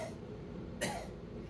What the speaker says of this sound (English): Try to cough.